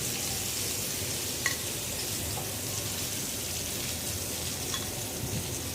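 Hilsa fish fries in hot oil with a steady, dense sizzle and faint spattering pops that stay close and even throughout.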